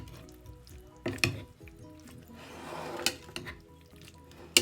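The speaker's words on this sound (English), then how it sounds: "See if we can mix this around in this tiny pan" Tomato spaghetti sauce stirred around a tiny pan, a soft steady sizzle with a few sharp scrapes and knocks of the utensil against the pan, close and fairly quiet with no talking.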